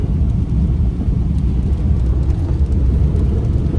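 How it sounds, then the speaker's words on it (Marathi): Continuous heavy monsoon rain pours over a roadside near Ghoti, with hills and farmland around and bridge construction nearby. The rain makes a loud, dense wash of noise with deep rumbling underneath, steady from start to finish. "अशा प्रकारे पाऊस चालू आहे"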